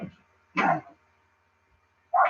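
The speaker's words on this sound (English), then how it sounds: "Dog's going ballistic." A dog barks in two short, sharp yaps spaced well apart, fairly close, with near silence between them.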